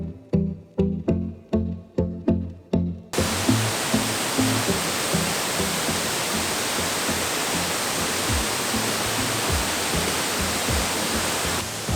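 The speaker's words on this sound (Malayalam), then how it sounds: "കാസർഗോഡിൻ്റെ അതിരപ്പള്ളി എന്നറിയപ്പെടുന്ന അച്ചൻകല്ല് വെള്ളച്ചാട്ടത്തിനടുത്ത് എത്തിയിരിക്കുകയാണ്" Achankallu waterfall in Kasaragod pours as a loud, steady broadband roar that fills the scene once it begins, preceded by a few seconds of rhythmic pounding thuds, with no voices.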